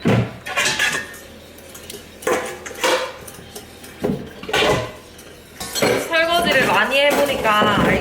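Dishes and cutlery are washed in a kitchen sink, close, loud clattering of plates and utensils in repeated bursts, with a voice talking over the clinks toward the end.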